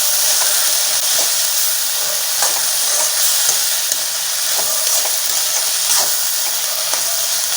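Yogurt-soaked, drained banana flower sizzles steadily in a hot pan for vazhaipoo usili, a bright continuous frying hiss with occasional crackles and stirring scrapes, close and loud, no talking.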